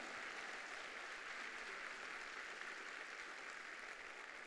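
Church congregation applauding during a Sunday morning service, a steady, dense wash of many hands heard from some distance, fairly faint and continuous with no talk over it.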